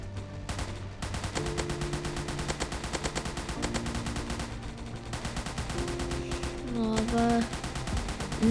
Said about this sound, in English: Now I got my M16. That's ready to shoot.